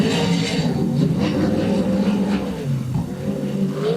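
A race car on a time trial lap down the back straight, its engine droning steadily with shifting pitch as it passes, loud and sustained throughout.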